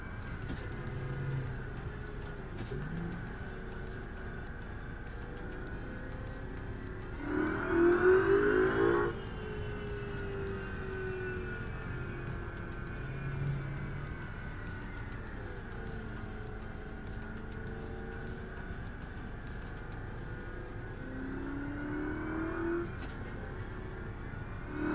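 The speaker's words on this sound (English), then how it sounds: "This is an accurate depiction of me driving a Ferrari." A Ferrari engine in a driving video game hums in a steady drone whose pitch slowly rises and falls, with a brief louder revving surge early on and another swell near the end; no one speaks.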